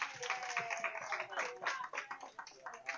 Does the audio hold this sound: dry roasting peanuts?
no